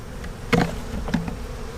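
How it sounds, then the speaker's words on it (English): A steady buzz of many honey bees, close up, with two dull thumps as the frame is shaken, checked for European foulbrood. "So let me shake these bees out."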